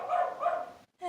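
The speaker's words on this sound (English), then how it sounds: "And there's the dogs." A couple of short dog barks come in two bursts close together, fairly near and clear, then a brief silence before another sound begins.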